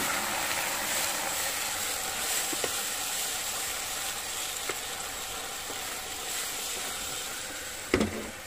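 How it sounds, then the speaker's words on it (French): Cream is poured into hot salted-butter caramel in a pan, raising a steady broad sizzle and hiss with a few faint clicks and one sharper knock near the end, close by and without voices. "Je mets ma crème pour arrêter la cuisson."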